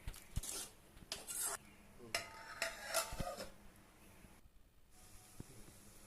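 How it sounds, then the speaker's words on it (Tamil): A utensil scrapes and clanks against a pot of pepper mutton curry in irregular strokes, with a soft sizzling hiss underneath. "இதை நல்லா கிண்டி விட்டுட்டு மூடி வச்சிடணும்"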